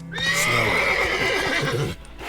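Roach, the horse in The Witcher 3, lets out a loud, close whinny that rises and wavers for nearly two seconds, with rhythmic hoof thuds underneath, then breaks off into a quieter tail.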